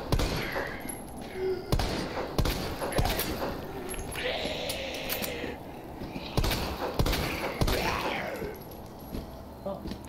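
Gunfire in the Resident Evil 2 remake, a handful of sharp, sparse shots and thuds breaking through game sounds, with a player talking at times between them.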